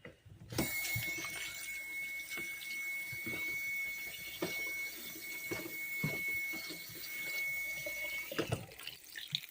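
Pasta is rinsed under a sink tap: water runs in a steady stream, with clunks and splashes as the pasta is handled, before the flow stops.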